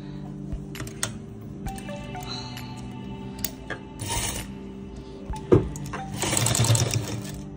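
A sewing machine stitches lace in short runs, its motor whirring and needle clattering in rapid rhythm, close and moderately loud, pausing between stretches with small handling taps.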